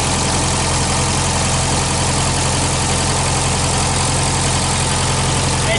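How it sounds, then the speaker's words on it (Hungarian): A 1965 Volkswagen Beetle engine idles loud and close, a steady low chugging drone that holds unchanged throughout with no voices over it. "Nagyon szépen kekerészik a motor, hogy hagyom, hogy egy kicsit hallgassátok."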